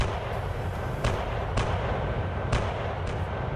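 Artillery cannon fire from a simulated 1805 Austerlitz battle, a steady low rumble punctuated by several sharp booms spaced about half a second to a second apart, loud and continuous with no voices.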